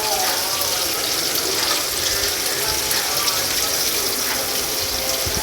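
Eggplant sizzles in hot oil with a dense, steady crackling hiss throughout, fairly loud and close.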